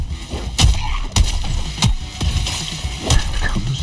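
Loud, close gunshots in the Suicide Squad: Kill the Justice League video game, about five heavy booming reports spaced unevenly over a few seconds, each with a short rumbling tail.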